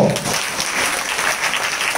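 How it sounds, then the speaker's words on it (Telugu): A church congregation at a New Year message service claps in a sustained, dense wash of applause that stays fairly loud and even throughout, with no clear speech. "చప్పట్లో"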